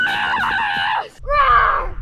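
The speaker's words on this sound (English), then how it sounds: "And the screams are coming after us." Screams from people on a mountain-bike trail near Esporles, Mallorca: two loud, high wavering cries, the first long and sustained, then a short gap and a second rising shriek over rumbling outdoor noise.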